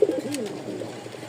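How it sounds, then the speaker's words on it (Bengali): Large Rajshahi high-flying pigeons give a soft, close coo, one brief rolling call that fades within about a second. "আর কবুতরগুলো খুব বিগ সাইজের"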